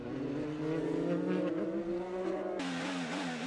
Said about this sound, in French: Derrière, les pilotes quand même ont eu un petit peu de mal à éviter la voiture de Marco Andretti